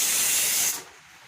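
Pressure cooker steam release while rice cooks in a home kitchen: a loud, steady hissing whistle for most of the moment, then cutting off abruptly and leaving a faint background.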